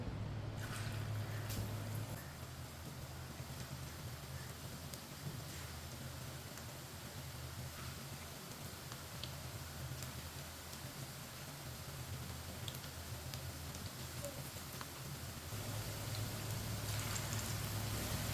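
Seekh kebabs frying in hot oil over a medium flame: a steady, soft crackling sizzle that runs the whole time, fairly quiet and even.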